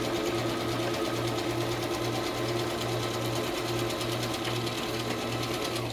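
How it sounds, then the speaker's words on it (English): A sewing machine stitches a pocket made from book pages, its steady rapid mechanical whir running continuously and close up, with no speech over it. "It's hard to sew and talk at the same time."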